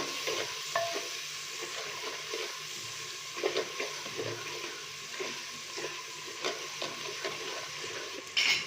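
Spiced potatoes, peas and cabbage sizzle in a pan with turmeric and cumin powder, stirred with scattered scraping clicks over a steady frying hiss, close and fairly quiet, with no voices.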